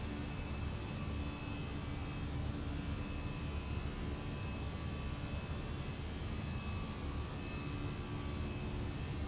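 Airbus A320 engines at climb power in a flight simulator, a steady broadband roar with a faint whine riding on top, constant and unbroken throughout with no talking.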